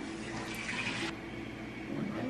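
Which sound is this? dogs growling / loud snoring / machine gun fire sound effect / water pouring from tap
water pouring from tap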